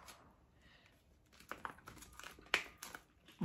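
A package holding pelican appliqué scissors is unwrapped at close range, with soft crinkling that builds into sharper crackles and tearing bursts of plastic wrap, and no talk.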